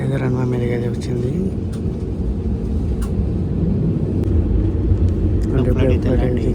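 A passenger airplane sits on the runway at Goa, with a continuous low engine rumble and droning hum heard from inside the cabin, steady from start to finish.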